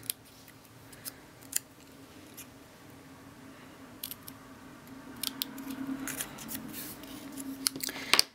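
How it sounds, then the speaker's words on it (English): Scissors snipping a banner end into a small strip of red cardstock, a few soft, close, separate cuts spread across a quiet background. "I'm also going to cut a banner end into this."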